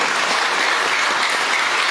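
A church congregation claps together at a pastor's call, a dense, steady wash of many hands with no voices over it.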